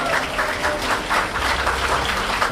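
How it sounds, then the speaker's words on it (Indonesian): Steady applause from a crowd at a business seminar, continuous clapping at an even level throughout with no voices standing out. "Berikan tepuk tangan."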